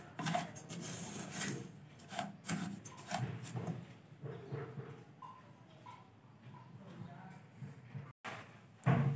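Sugar melting in a pan for homemade caramel sauce is stirred with a steady, soft scraping and rasping, close and fairly quiet, with brief pauses and a short dropout near the end.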